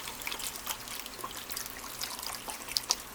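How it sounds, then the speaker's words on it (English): Chicken broth pours from a quart container over diced, rinsed potatoes in a pot, a continuous close liquid trickle and splash with small gurgling bursts and no talking. "And I'm going to cover it with the chicken broth."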